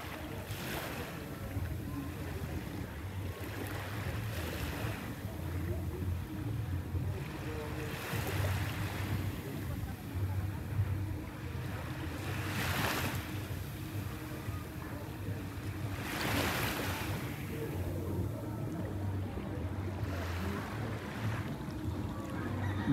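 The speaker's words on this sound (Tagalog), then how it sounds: "Banana boat." A banana boat is out on the sea off Ilig-Iligan Beach in Boracay, with a low, steady boat rumble and a continuous wash of waves, while wind gusts swell and fade.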